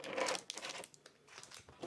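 A plastic insert from a gold trading card tin is handled, producing faint, irregular crinkling and crackling bursts at close range.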